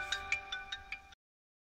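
A phone ringtone chirps five quick, evenly spaced times, faint and close, then cuts off abruptly into silence.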